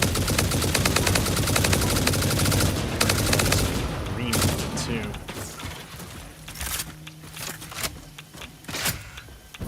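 Gunfire in the video game Satisfactory, loud rapid bursts of shots packed into the first few seconds, then sparser sharp cracks and impacts over a busy game soundscape with speech mixed in.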